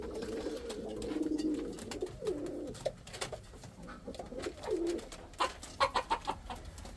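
Indian fantail pigeons give low, rolling coos at close range, repeated over several seconds, with soft rustles and light taps in the background.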